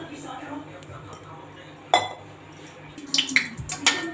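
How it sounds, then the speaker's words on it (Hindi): Ghee going into a kadhai on the stove for cooking, with faint background noise, a sudden metallic clink, then scattered clinks and light sizzling taps as a voice talks over it. "और हम इस कढ़ाई में घी डालेंगे"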